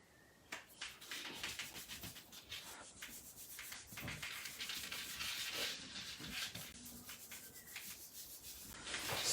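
Paper being rubbed firmly by hand to pull a print from a painted layer, a steady run of scratchy, grainy strokes that go on for several seconds with no talking.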